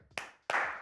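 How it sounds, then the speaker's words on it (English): Two sharp hand claps, spaced about a third of a second apart, crisp and close in an otherwise quiet room. "Let's get 2 claps for Chris here."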